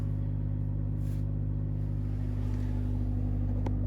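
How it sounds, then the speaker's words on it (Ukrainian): A VAG car engine runs with the accelerator pedal held fully down during a DPF soot-value procedure. It makes a loud, steady, close droning rumble that holds an even level throughout, with no speech. "Натискаємо правою ногою на педаль акселератора до упора і утримуємо її до кінця процесу."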